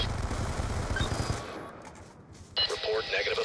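A Warthog gun strafing run in Black Ops 2, a dense, fast roar of cannon fire for about a second and a half that cuts off, followed by radio chatter.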